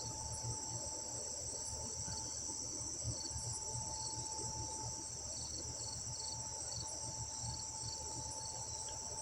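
Crickets chirp steadily through a night during a lightning storm, a dense continuous high trill with faint distant rumble underneath and no voices.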